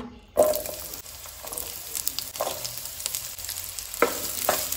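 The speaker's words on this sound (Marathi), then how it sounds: "आनी कांदो जो आसा पळय न्हू तो आमकां आतां बरो गोल्डन ब्रावन जाय मेरेन हितून भाजून घेवपाक जाय" Onions fry in hot oil in a pan for a Goan egg drop curry, with a close, steady sizzle, a sharp burst as they go in, and a few scraping stirs afterward, no voices.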